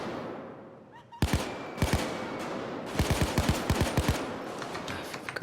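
Gunfire in the video game Payday 2: sharp, close shots fired singly, in pairs and in quick bursts of four or five, spaced out over a low background hum.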